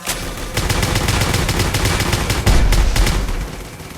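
Dense rapid gunfire from a video game shooter, loud continuous automatic bursts with sharp repeated cracks, slightly heavier thumps in the second half before easing off.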